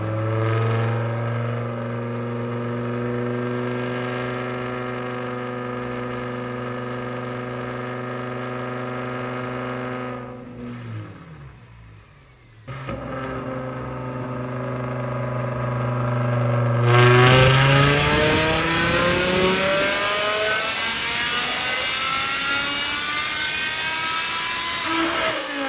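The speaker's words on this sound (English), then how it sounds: "First pull on the queen is complete" A BMW E60 M5 with an outlaw-built V10 runs on a dyno, first droning at a steady loud pitch, briefly dipping and stumbling, then roaring into a hard pull with pitch rising sharply and staying loud.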